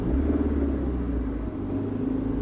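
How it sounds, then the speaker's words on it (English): Manual transmission car pulling away as the clutch comes out and gas goes in, a steady low engine rumble heard from inside the cabin, even and moderately loud throughout. "See, the car is starting to move now."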